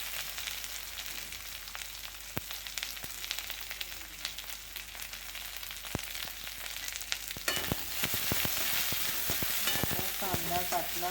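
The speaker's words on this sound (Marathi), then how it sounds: "कढीपत्ता टाकला, आता कांदा टाकते." Chopped onion goes into curry leaves already frying in oil in a pan for a ridge gourd dish, a steady close hiss and crackle that grows louder and busier partway through, with scattered sharp pops and stirring scrapes.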